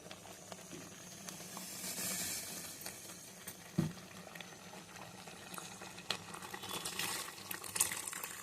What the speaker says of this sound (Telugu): నేను వాటర్ పోసుకుంటున్నాను.